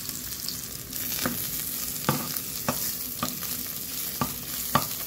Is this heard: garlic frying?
yes